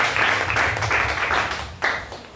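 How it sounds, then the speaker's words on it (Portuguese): Applause rises in a church deliverance service, a short burst of crowd clapping that swells and fades and then returns briefly at the end. "Aplauda ele de novo."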